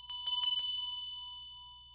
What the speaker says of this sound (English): I will ring this bell to close